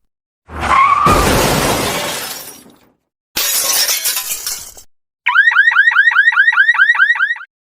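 A staged car crash: tyres screech, then a heavy impact with glass shattering, and moments later a car alarm starts wailing in rapid repeating sweeps, all loud and close with no voices.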